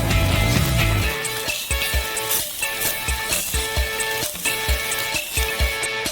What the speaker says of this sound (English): Over some low heat, we constantly crush and mix the cheese.